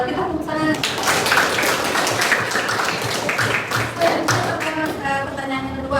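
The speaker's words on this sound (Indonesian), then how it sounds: "Kita tepuk tangan." Hands clapping in a classroom, an irregular burst of claps mixed with children's voices and chatter throughout, fairly close and steady in level.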